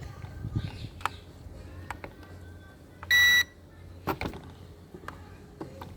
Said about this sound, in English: You're gonna hear a beep.